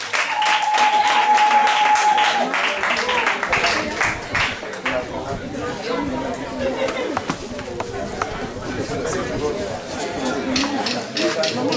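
A congregation at a church dowry ceremony in Cotonou claps and cheers in acclamation, with loud, busy applause and crowd chatter mixed with voices throughout.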